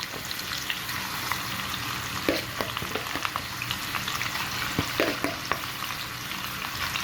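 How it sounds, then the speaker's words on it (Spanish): Chicken sears in a frying pan, giving a steady crackling sizzle with scattered pops, close and moderately quiet, with no talking. "vamos a dejar a que se selle ahorita por un lado y vamos a tapar esto."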